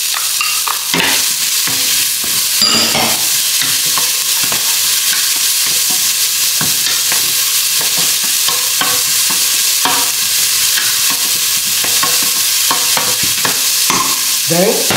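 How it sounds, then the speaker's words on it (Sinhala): Carrots frying in a hot pan for a rice dish, a loud continuous sizzle with repeated scraping and stirring strokes throughout, no voices. "දැන් අපි මේ කැරට් ටික මම මේකට එකතු කරගන්නවා."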